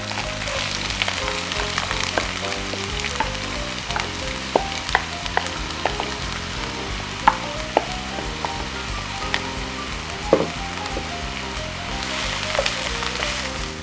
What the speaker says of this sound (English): Add in your 2 diced onions and start stirring it.